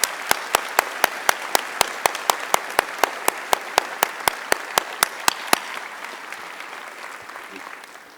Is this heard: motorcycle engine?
no